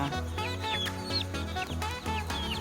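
Native free-range chickens on a small farm cluck and chirp in a busy, overlapping chorus, near and fairly soft, with no speech.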